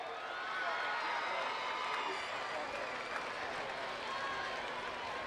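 A high school football crowd at the Union versus Mustang game applauds the Mustang High School Cheer Squad. The clapping and cheering is steady and sustained across the whole stretch, heard from a distance in a large stadium.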